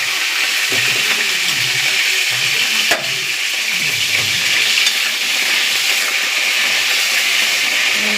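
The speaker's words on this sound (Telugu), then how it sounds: "ఫస్ట్ నూనెలో ఫ్రై చేసుకోవాలి" Chana dal, urad dal and sesame seeds frying in hot oil, a loud, continuous sizzling hiss with occasional stirring scrapes and soft knocks, close and steady.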